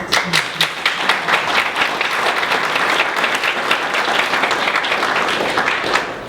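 Audience applause at an equal opportunity conference honoring the OFCCP Institute, a loud, close burst of many clapping hands with sharp individual claps standing out at the start, settling into a steady wash that continues throughout.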